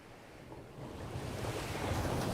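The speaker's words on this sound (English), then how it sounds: "Waves crashed against the cliff." Waves crash against a cliff in an audio drama, a broad rushing surf roar that builds steadily in loudness, with no voices.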